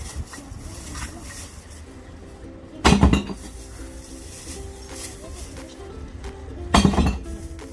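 Glass bottles tipped into a bottle sorting bin, giving two loud clattering crashes of glass a few seconds apart over a low background hum.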